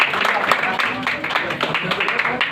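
Students in a classroom clap together in a short, dense burst of applause, many hands overlapping at a steady, fairly loud level from start to finish.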